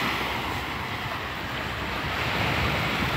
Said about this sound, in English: The wind is blowing out of the west